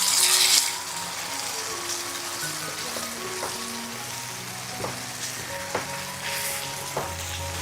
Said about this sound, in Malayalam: തേങ്ങാപ്പാൽ ഇതുപോലെ വറ്റി കുറുകി വരുന്ന സമയത്ത് എല്ലാം കൂടിയിട്ട് ഒന്ന് യോജിപ്പിച്ചെടുക്കാം.